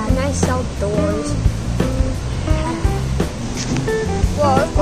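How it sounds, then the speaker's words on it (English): A waterfall rushes outdoors in a steady, full broadband roar that runs the whole time, partly masked by voices and other tonal sounds layered over it. "this waterfall is so epic"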